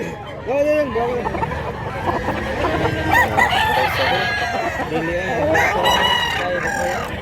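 Roosters at a chicken market in Mantalungon, Cebu crow repeatedly and overlap one another near and far, with clucking mixed in and people talking in the background throughout.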